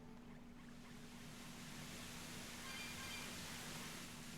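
Steady broadband rushing of a waterfall in the video game Tales of Berseria, a constant even roar with a faint low hum beneath it and no voices.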